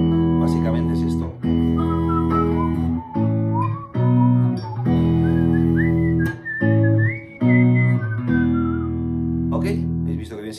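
A person whistles the main guitar riff of the song "Quiero tener tu presencia", a bright sliding melody in E, close and loud over sustained low guitar chords that break off briefly between phrases.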